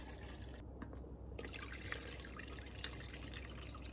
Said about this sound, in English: Double strain, pouring it back in that container.